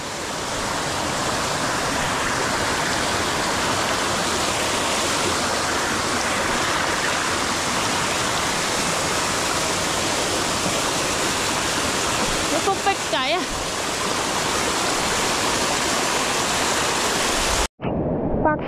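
A waterfall and flowing stream along a rocky hillside gorge, a loud continuous roar of rushing water that stays steady and near, with a short rustle of movement near the end.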